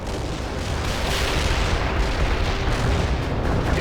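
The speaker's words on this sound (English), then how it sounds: "Our barrage hit the target." An artillery barrage pounds away in World in Conflict, a loud continuous rumble of blasts and booms rolling together without pause, with no speech.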